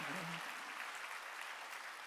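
A church congregation at a Wednesday worship service claps together in a dense, even burst, heard faintly at a distance with a brief low voice at the very start.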